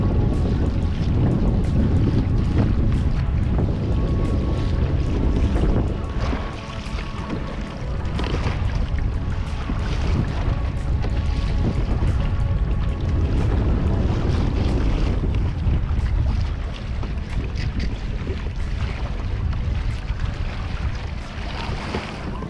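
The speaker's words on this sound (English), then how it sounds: "Motor has been running good" A small boat's outboard motor runs steadily while the boat is out fishing on the ocean, with a continuous engine drone mixed with wind buffeting and water noise and no voices.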